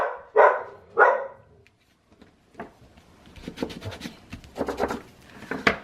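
A small pet dog named Zoe gives two sharp, excited barks close by, followed by quieter rustling and rubbing noises as someone works with fabric and glue.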